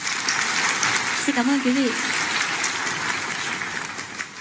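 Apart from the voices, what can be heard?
big round of audience applause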